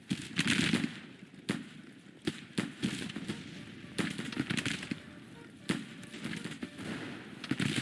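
Gunfire in a Civil War battle video game, sharp crackling volleys and scattered single musket shots in irregular bursts, some close and loud, others fainter and distant, with a steady battle rumble underneath.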